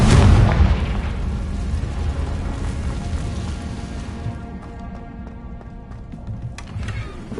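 A Confringo fire spell bursting in Hogwarts Legacy, a loud booming explosion at the start that rolls into a long rumbling decay with scattered crackles and debris ticks fading away.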